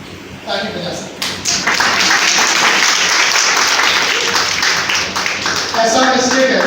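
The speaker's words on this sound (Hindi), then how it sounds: "ताली बजा सकते" An audience at a Hindi literary gathering breaks into clapping that swells quickly and holds as dense, sustained applause, with a voice heard briefly at the start and again near the end.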